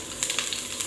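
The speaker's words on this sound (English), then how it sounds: "put our onions inside and let them begin cooking" Onions sizzle and fry in hot oil in a sufuria, a steady soft crackle with a few sharper spits, close and moderately quiet with no talking.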